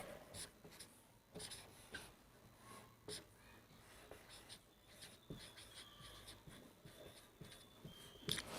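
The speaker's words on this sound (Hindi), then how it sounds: "चलिए लिख रहा हूँ मैं" Chalk or marker scratches across a board in bursts during an English grammar lesson, quiet strokes separated by short pauses in a calm room.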